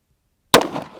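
A single sharp gunshot from a Bearman .38 Special derringer fired with light loads cracks out after a half-second of silence, then decays into a brief echoing tail.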